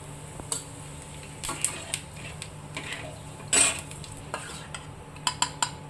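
Panch phoron, a five-spice mix, crackles softly in a kadai while a spoon stirs it, with intermittent metallic scrapes and clinks and one louder clatter midway.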